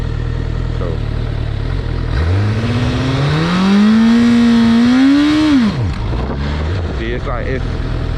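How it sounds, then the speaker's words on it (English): A liter-class motorcycle engine revs loud and close, climbing and holding at high revs, then cutting off sharply, with a steady engine rumble underneath. "I'm literally dropping it at high rev too."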